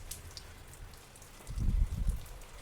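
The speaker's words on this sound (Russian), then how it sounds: "сейчас дождик пройдет" Light rain falling on a country dacha plot, a soft patter with a brief cluster of dull, close drops thudding on a surface midway through.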